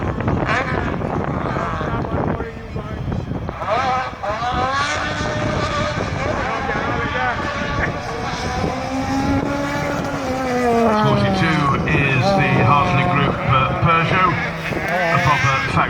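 A Rally 2 rally car at the King of the Hill hillclimb on a damp course, engine loud and close, revving and changing pitch throughout, with a commentator talking over it.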